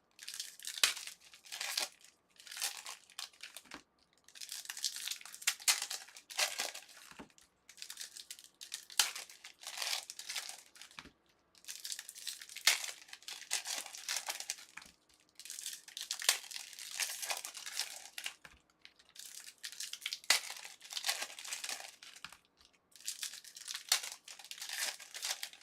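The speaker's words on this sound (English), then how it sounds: "We're going to use a knife on this one. Some of these packs are super easy to rip." Trading card packs being ripped open with a knife: repeated bursts of crisp foil crinkling and tearing in close, quiet bouts separated by short pauses.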